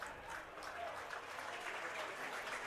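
Crowd at an Amsterdam Mohawks baseball game applauding a play, a distant, steady patter of clapping heard faintly across the ballpark.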